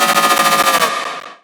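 Heavy distorted bass synth in a metal remix, left without multi-band compression: a loud, dense, rapid pulsing burst that stutters like machine-gun fire and then fades out.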